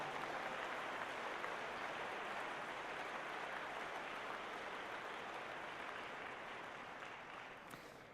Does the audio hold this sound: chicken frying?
no